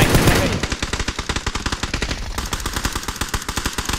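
Rapid automatic gunfire in the video game PUBG, a long run of sharp, evenly spaced shots rattling off loudly and close, with no talking over it.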